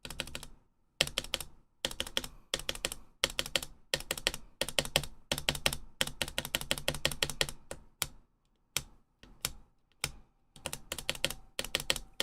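Typing on a Vanguard65 keyboard with tuned stabilizers: close, crisp bursts of rapid keystrokes broken by short pauses, with a few isolated heavier key presses toward the end and no talking.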